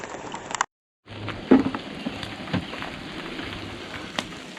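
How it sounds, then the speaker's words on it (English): Rain falls in a Washington State forest near Castle Rock, a steady close patter on leaves and surfaces with scattered heavier drops and a brief break in the sound early on. "we haven't had a rain like this in a couple of years"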